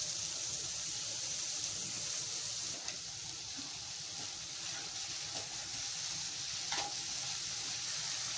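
Chai, a wild leafy vegetable, sizzles in a pan in a traditional tribal recipe, giving a quiet, steady frying hiss with a few faint stirring knocks.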